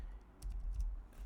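A few soft, quick keystrokes on a MacBook keyboard entering a terminal command, close and quiet, with short clicks spread over a second.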